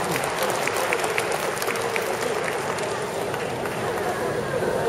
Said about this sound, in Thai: ช่วยกันปรบมือให้ตัวเองนะครับ